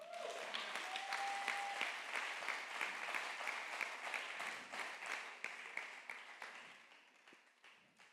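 A church congregation applauding during a sermon, steady sustained clapping from many people that fills the room, then gradually thins and fades toward the end.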